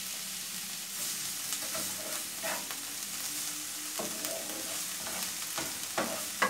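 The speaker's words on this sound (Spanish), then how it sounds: "estaremos sofriendo la cebolla y el pimiento morrón" Onion and bell pepper sautéing in heated oil, a soft, even sizzle with occasional faint stirring clicks, fairly quiet and uninterrupted.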